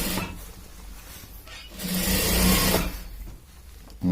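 Sewing machine stitching the seat seam of a pair of pants, a soft motor whirr that swells into a louder steady run in the middle and then fades, close by.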